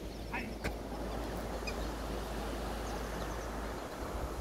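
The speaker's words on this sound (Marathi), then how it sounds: "बघा, पक्ष्यांचा आवाज आपल्याला दिसतोय।" Ducks quack near a small check dam and bridge over clear water, a few brief calls standing out over a steady outdoor rush of flowing water and wind.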